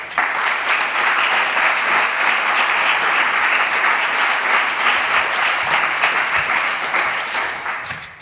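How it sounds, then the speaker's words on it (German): A crowd at a mental health awareness event in Solothurn gives loud, steady applause that fills the room for about eight seconds, with many hands clapping at once before it begins to taper off. "habt ihr alle auch einen Applaus verdient"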